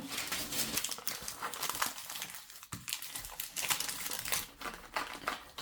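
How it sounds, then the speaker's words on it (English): Baking paper crinkles and crackles steadily as it is pressed into a mould for a thick chocolate bar, a close, continuous rustle with sharper crumpling bursts and no talking. "I will now take some baking paper to put that"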